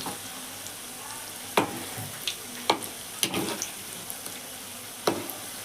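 A soft steady sizzle of date fritters frying in oil runs throughout, broken by several sharp clinks and scrapes of a utensil stirring in the pan.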